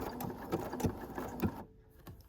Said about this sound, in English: I've got the speed setting on the machine at about halfway.